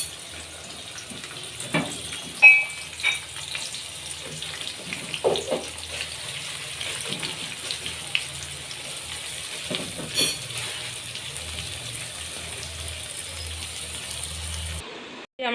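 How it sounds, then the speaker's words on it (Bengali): Onions sizzling as they go into hot oil with a little sugar and whole garam masala, a steady frying crackle with scattered clinks of a spoon and pan close by, no talking. "তেল গরম হয়ে গেছে, এর মধ্যে একটু চিনি দিয়েছি কালারের জন্য, আর গোটা গরম মশলা দেওয়া হয়েছে। এখন পেঁয়াজ দিয়ে দেবো।"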